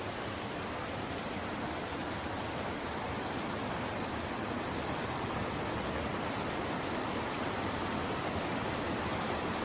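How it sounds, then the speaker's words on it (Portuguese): Farm waterfall (cascata) pouring steadily, a dense, continuous roar of falling water that stays loud and even throughout with no voices. "Aproveitar tudo que a cachoeira fornece."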